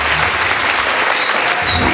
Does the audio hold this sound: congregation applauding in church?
yes